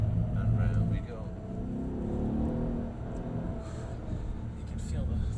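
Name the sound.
Mercedes-Benz E63 AMG engine accelerating around a track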